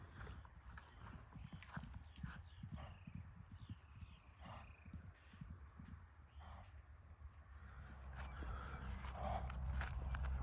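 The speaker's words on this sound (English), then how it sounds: "Yeah, it's just the horse getting her energy out." A horse runs around a field, hooves clip-clopping in irregular bursts at moderate distance, with a faint low rumble building toward the end.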